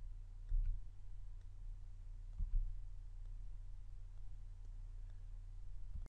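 A computer mouse clicks in Bible software, with two sharp, close clicks about two seconds apart over a faint steady hum in an otherwise quiet room.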